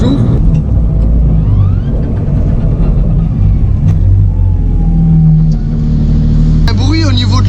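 BMW E36 engine idling and warming up, a steady mid-low drone with a slight rise in revs late on, close and continuous, with people talking over it.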